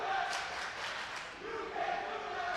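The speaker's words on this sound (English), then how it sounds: "as the crowd section screams, "You can't do that,"" A basketball fan section screams and chants at a girls' high school game, a sustained, dense wall of crowd noise with rising surges and no pauses.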